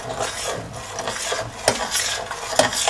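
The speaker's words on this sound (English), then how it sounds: "Keep stirring continuously," Milk being stirred continuously in a pan over a low flame for caramel ice cream, a steady close scraping and rubbing of the spoon against the pan with a couple of sharper clinks.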